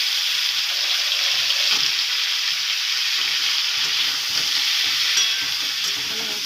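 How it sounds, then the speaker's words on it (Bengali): Young jackfruit and potatoes frying in a pan, a steady bright sizzle with scraping stir strokes throughout, close and fairly loud, no talking. "আমি এঁচোড় দিয়ে আলুটা ভাজা ভাজা করবো,"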